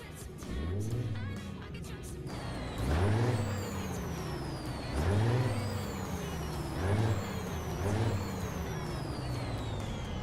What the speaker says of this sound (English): Let's see what this Caterpillar sounds like.